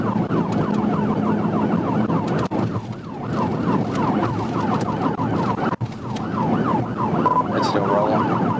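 A police car siren wails in rapid repeating up-and-down sweeps during a highway chase of a Honda Accord on Interstate 40, loud and continuous over the rumble of the moving vehicle.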